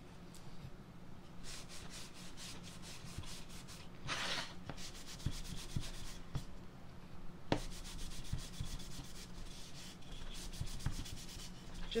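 Wax being rubbed by hand onto a freshly stained wooden piece, a steady soft scuffing friction that continues almost without pause, with brief lighter strokes mixed in and no voices.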